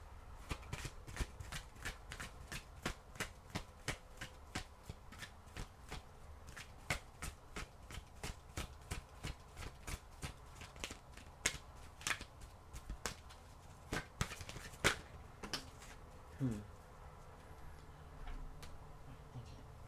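Oracle cards are shuffled in a quiet room: a long run of crisp, regular riffling snaps and ticks, close and clear, with no voice over them.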